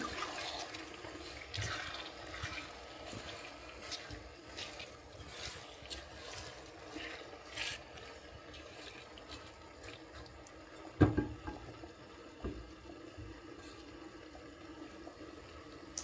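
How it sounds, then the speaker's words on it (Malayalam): Liquid bubbles and gurgles steadily in a pot, with soft irregular pops and a faint watery rush throughout, and one louder clunk partway through. "എന്തോ തിളയ്ക്കുന്ന സൗണ്ടൊക്കെ കേൾക്കുന്നുണ്ട്"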